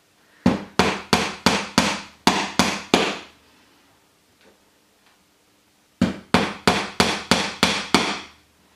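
Steady hammer blows on a nail for string art, two rapid runs of about nine strikes each separated by a short quiet pause, loud and close.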